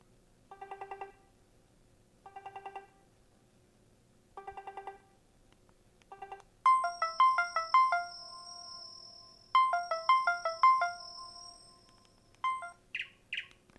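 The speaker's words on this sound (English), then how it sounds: "I'm going to get the call volume to 10 as well" A Mudita Pure phone ringtone plays loudly at full volume, starting with short repeated chirping bursts, then a brighter melodic ring with high, tweeting tones in quick succession.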